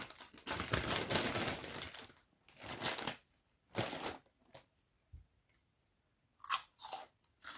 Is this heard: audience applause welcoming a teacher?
no